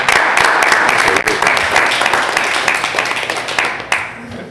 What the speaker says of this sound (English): I think that does deserve some applause